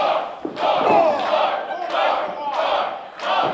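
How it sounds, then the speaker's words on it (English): A wrestling crowd at a live independent show chants in loud, rhythmic bursts, swelling voices repeating roughly every second, close and reverberant. "You hear the crowd chanting"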